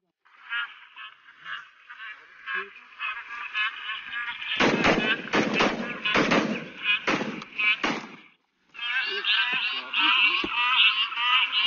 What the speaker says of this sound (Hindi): ये लगे शॉट मजा आ गया जी आदम